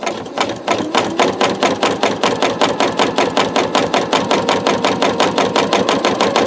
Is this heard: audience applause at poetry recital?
no